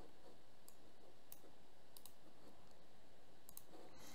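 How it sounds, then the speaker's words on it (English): Faint, sparse clicks of a computer keyboard as a search is typed, with a few light taps spread across a quiet room and no talking. "So you type in chamomile ester or paste it."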